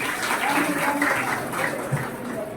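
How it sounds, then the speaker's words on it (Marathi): Audience applause at a women's haldi-kunku welcome ceremony held by a Dashavatar folk drama festival society, a steady dense clapping that fills the room for a few seconds with a faint tonal murmur underneath. "या सर्व मान्यवरांसाठी अगदी जोरदार टाळ्या होऊन जातो"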